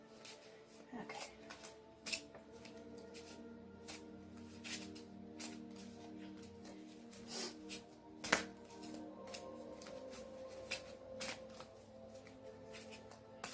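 Playing cards are shuffled repeatedly at close range, with crisp riffling bursts and sharp taps spread across a quiet background.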